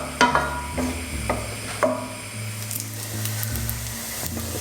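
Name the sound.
pancetta frying in a pan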